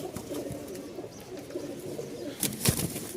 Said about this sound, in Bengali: এই এক পিচ কবুতর মাশাল্লাহ